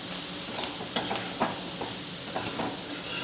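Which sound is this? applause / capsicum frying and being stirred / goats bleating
capsicum frying and being stirred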